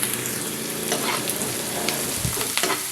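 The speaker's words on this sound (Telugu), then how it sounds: "దీనిలో ఉల్లిపాయలు పచ్చిమిరపకాయలు వేసి వేయించుకుందాం." Onions and green chillies fry in hot oil in a pan, a close, steady crackling sizzle with occasional stirring scrapes and no voices.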